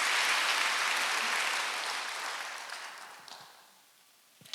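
A church congregation at a Wednesday worship service breaks into applause that starts full and loud, then gradually thins and fades over several seconds.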